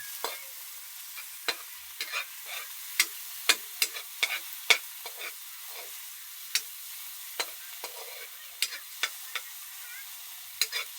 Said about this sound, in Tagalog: Ganyan lang po ang paggisa-gisa.